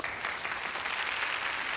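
Steady audience applause after a speech about Fort Greene, a dense even wash of many hands clapping at close range with no gaps across the whole stretch.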